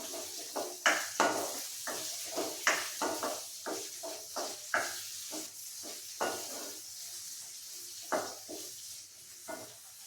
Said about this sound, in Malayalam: കറിവേപ്പിലയും ഇട്ട് കൊടുക്കുക ഇനി ഇത് നന്നായിട്ടൊന്ന് വഴറ്റി കൊടുക്കണം